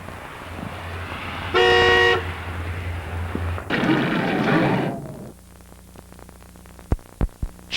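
A long, loud car horn blast in a traffic jam, followed by a rushing swell of traffic noise, then quieter static-like crackle and a few sharp knocks; no voices.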